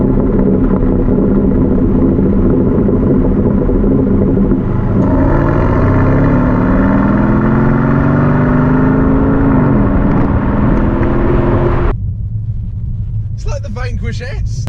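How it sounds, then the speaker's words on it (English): An Aston Martin DB11 in sport mode idles with a deep, loud exhaust rumble that swells with a throttle blip midway, then drops off abruptly near the end, with someone talking over it. "So when you flick it into sport, you get a nice rumble to it"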